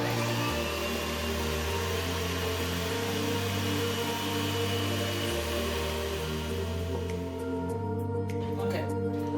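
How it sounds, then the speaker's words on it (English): A countertop blender running on puree setting, blending peppers for African hot sauce: a steady motor whir with pitch steps as the load shifts, fairly close and continuous before tapering off near the end. "this is the first peppers that I blend"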